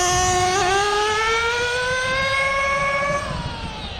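A HoBao Hyper VS2 nitro RC car's glow engine screams at max throttle, a loud steady high-pitched whine whose pitch climbs slightly, then eases near the end, heard alone at close range.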